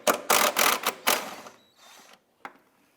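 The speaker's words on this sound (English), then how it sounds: "reaching in with our 10mm socket and extension, let's go ahead and remove the two bolts here" A 10mm socket on an extension ratchets out the rear shock absorber bolts of a Ford Fiesta. Loud, close bursts of ratchet clicking fade into quieter turning and end with a single sharp tap.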